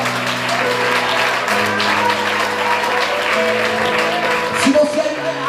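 A church congregation claps and praises during a sermon, steady clapping from many hands over a held musical tone, with voices murmuring and calling out underneath.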